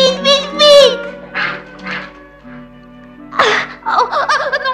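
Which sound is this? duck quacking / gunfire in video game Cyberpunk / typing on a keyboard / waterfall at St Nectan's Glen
duck quacking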